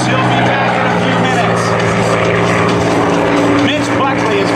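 A radio-controlled P-51D model plane flying a display at the 2013 Plymouth, Massachusetts air show, its loud, steady propeller-engine drone filling the air while an announcer talks over it.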